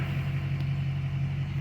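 A car engine idles steadily with a low, even hum and slight fluctuation in its revs, close and continuous throughout.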